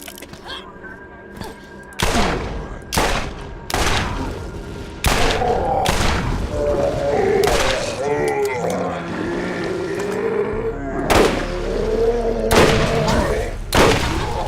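Gunfire in Borderlands 1 from a weapon kit that spans several elements and includes multi-projectile guns, out in the Arid Badlands: about eight sharp, loud shots arrive at irregular gaps over steady game ambience, joined by mechanical clanks and a whirring creak in the middle.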